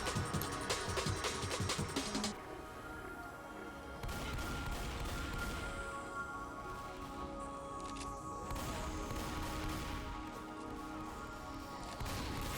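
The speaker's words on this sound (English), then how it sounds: "I'm just doing some pre-firing around this corner in case there's a boomer." Gunfire from Left 4 Dead 2 as a player pre-fires around a corner while a Tank is in play, with a dense, steady stream of shots and clatter running continuously at close range.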